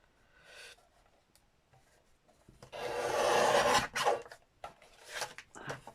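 Paper is cut or trimmed to fit a journal, with rasping, scraping strokes that come in short bursts, then a louder sustained stretch in the middle and a few more strokes after, close up with no talk.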